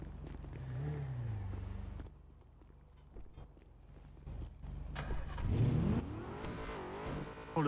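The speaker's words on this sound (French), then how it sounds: "Le bruit de ce moteur" A car engine in the video game GTA revs and accelerates loudly, with a rising pitch sweep midway through and a steady mechanical drone throughout, no talk over it.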